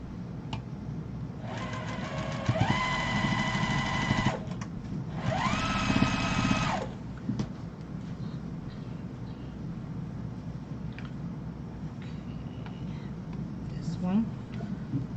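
A sewing machine stitches pieced fabric for a long wall organizer in two loud whirring bursts of a few seconds each. Quieter room noise and handling sounds fill the gaps between the runs.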